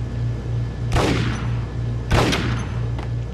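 Gunfire in the Max Payne video game: two loud, sharp shots about a second apart, each with a brief decaying tail, over a steady low game hum.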